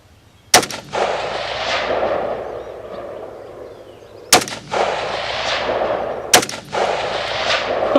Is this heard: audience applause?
no